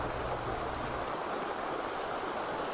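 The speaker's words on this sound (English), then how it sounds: "We can hear the sound very clearly of rushing water" Floodwater rushes behind a compromised Beaver Dam during a major flood, a loud, steady broadband roar with no breaks, heard alone.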